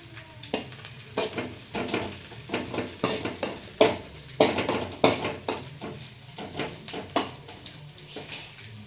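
Green chillies frying in oil in a pan for noodles, a light sizzle under frequent, busy metallic scrapes and clinks of a spatula stirring against the pan, close up with no voices.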